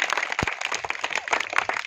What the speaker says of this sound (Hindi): ताली लगाओ महिपाल के नाम से।